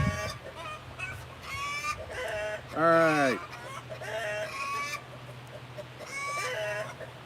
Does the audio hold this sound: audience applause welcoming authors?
no